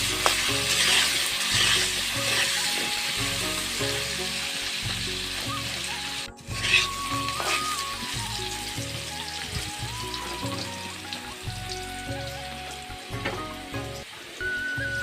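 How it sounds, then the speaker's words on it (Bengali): Potatoes seasoned with turmeric and salt sizzle steadily in hot oil in a kadai, with a continuous crackling fry and occasional stirring scrapes, close by and without talk. "আলুগুলো আমার ভাজা হয়ে গেছে"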